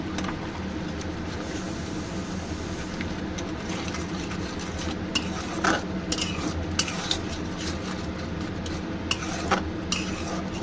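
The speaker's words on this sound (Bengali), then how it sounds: "এই যে মশলাটা কষানো চলছে" Spice paste for chicken rezala stir-fried in a pan, with a steady low sizzle and scraping stirring strokes, plus occasional spoon clinks against the pan.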